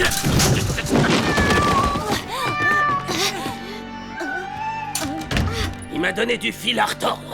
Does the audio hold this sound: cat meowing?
yes